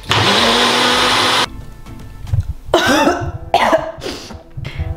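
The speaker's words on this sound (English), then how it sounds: "now it's time to blend" A blender blending onion and water runs loud and steady for about a second and a half, then cuts off, leaving scattered clatter and brief rough noises.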